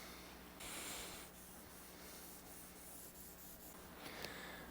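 3000-grit sandpaper rubs across a rosewood Telecaster guitar body in quick back-and-forth strokes, a soft, close, continuous scratchy hiss with slight surges, no talking.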